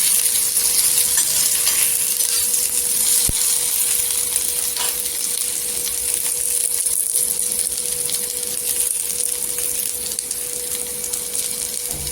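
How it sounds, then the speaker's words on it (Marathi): Okra, green chillies and garlic fry in oil in a pan, giving a steady, loud, even sizzle throughout with a brief sharp clink partway through. "भेंडी फक्त तेलावर अशी परतायची"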